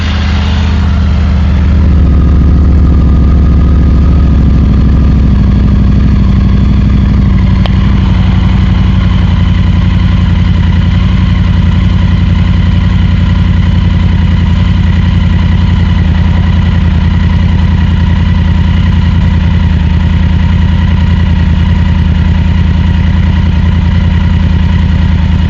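A 2026 Triumph Tiger 900 GT motorcycle engine rumbles steadily and loud, close up, with a deep low-end drone and a settled, even note that holds for the whole stretch with no voices.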